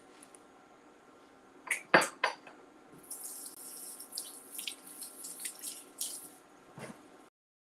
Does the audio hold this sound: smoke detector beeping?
no